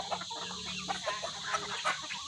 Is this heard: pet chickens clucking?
yes